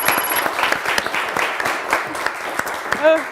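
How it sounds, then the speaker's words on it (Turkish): Studio audience applause on a Turkish word game show, continuous clapping from a crowd throughout, with a voice briefly cutting in near the end. "Yeter artık dedi alkışa başladı adam."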